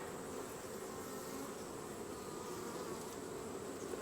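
Honey bees buzz around an open hive during a hive check, a steady, dense drone of many insects close by, fairly quiet and continuous without any talking.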